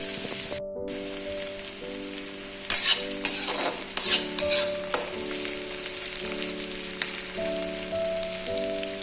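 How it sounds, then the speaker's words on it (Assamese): Onions are stir-fried in hot oil for an Assamese duck recipe, a continuous crackling sizzle with a few louder scraping stirs partway through, close and with no voices. "পিয়াজখিনি দিয়াৰ পিছত 3 মিনিটমান এনেকৈ ভাজি লম।"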